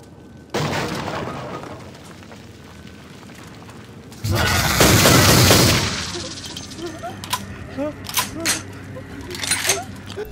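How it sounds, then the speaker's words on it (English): Shotgun blasts ring out in Vampire: The Masquerade, with a sharp report followed by a heavier, louder burst. Game effects and scattered clicks follow, and a voice speaks around the shots. "but the shotgun worked at that range, so that was good."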